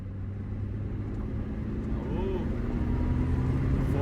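A 1993 Eagle Talon AWD turbo with a freshly rebuilt transmission drives along with a steady, loud engine and road rumble heard from inside the car throughout.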